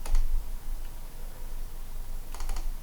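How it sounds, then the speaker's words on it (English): Computer keyboard keys tapped while typing a file name, a short run of quiet clicks near the start and a quick cluster of keystrokes near the end, close and soft in a quiet room. "then I'm going to type in a file name"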